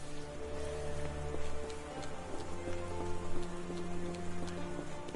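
Rain falls in the video game Sherlock Holmes: The Awakened, a steady, even patter and hiss throughout, with low sustained tones underneath and no voices.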